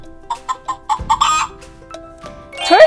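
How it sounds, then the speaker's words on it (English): A farm hen clucking close by, a series of short rhythmic clucks building into a louder squawk and ending with a rising cackle. "Let's listen to the sound that the hen makes."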